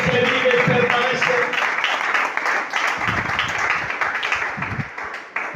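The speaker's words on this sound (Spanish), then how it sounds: "Quiero dar ese aplauso fuerte al Señor." Church congregation applauding loudly and steadily during a Thursday sermon service, with a dense wash of clapping throughout and some voices mixed in.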